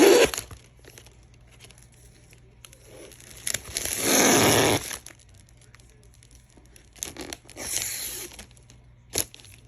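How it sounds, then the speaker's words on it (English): Gift ribbon pulled along an open scissors blade to curl it while assembling a Father's Day gift basket, close-up rasping swipes, one long zip in the middle and shorter strokes after. "open part of your scissors down the ribbon and then curl it right on in"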